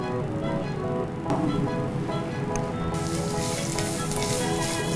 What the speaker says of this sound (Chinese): 要炒到佢變咩顏色？炒到佢變咗黃黃地咁咯。